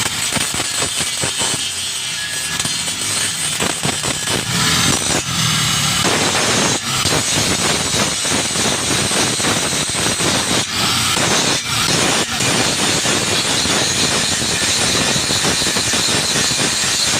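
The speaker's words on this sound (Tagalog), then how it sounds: "Ayan na po, at ginagrinder na po nila." An angle grinder grinds weld bumps off a metal floor frame, giving a loud, continuous abrasive whine and screech with rasping bursts and brief changes in pitch as the disc bites and lifts.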